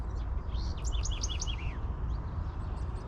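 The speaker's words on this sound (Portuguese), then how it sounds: "Os passarinhos estão cantando." Small birds sing a quick series of rising chirps and tweets at a riverside campsite, bright and fairly close over a steady low background rumble, then fainter calls continue in the distance.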